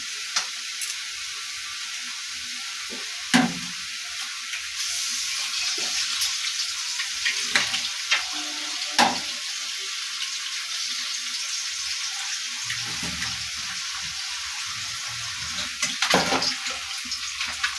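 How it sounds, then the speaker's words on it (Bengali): Vegetables frying in oil in a hot wok give a steady, close hiss of sizzling throughout, broken by occasional stirring clatters and scrapes, with no voices. "এদিকে আমার সবজি ভাজা হয়ে গেছে, সবজিটা হয়ে এসছে।"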